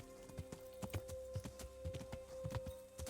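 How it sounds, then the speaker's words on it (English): Horse hooves clip-clop in the video game Kingdom Come: Deliverance, a quiet, steady walking rhythm of distinct hoof strikes over a faint constant tone, with no voices. "Oh, that horse wasn't here before."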